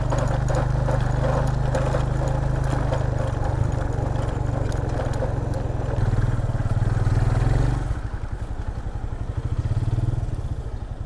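A motorcycle engine runs steadily close by in a mountain valley near Garam Chashma village in Chitral, a low continuous drone that settles into a rhythmic idling chug near the end, with no talking.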